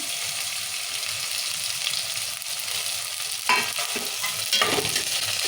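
Tomatoes and curry leaves frying in oil with onion give a constant close sizzle, then a few louder scrapes and knocks as the pan is stirred near the end.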